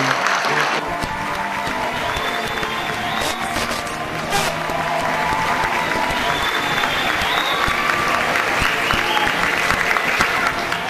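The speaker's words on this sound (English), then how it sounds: "Give Dave a huge round of" Loud, sustained audience applause with some cheering for a volunteer at a corporate magic show, a full crowd clapping steadily for around ten seconds.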